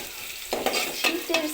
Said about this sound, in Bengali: এগুলো দিয়ে এখন একটু ভাজা ভাজা করে নেব